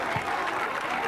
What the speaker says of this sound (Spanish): ¡Un aplauso para Eslovenia!